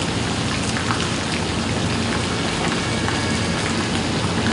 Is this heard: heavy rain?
yes